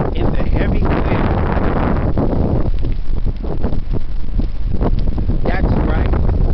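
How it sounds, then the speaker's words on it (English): Heavy wind on the Spartan trail, loud gusting rumble buffeting the microphone in surging waves, close and continuous, with someone talking under it. "Running through the Spartan trail in the heavy wind."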